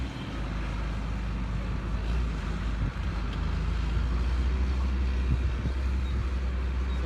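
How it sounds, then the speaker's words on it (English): Strong wind roars across the Avenal drag racing track during the Spring Nationals, a steady, loud, broadband rush with low rumble that barely changes over several seconds, with no talk. "the wind is just ripping through here"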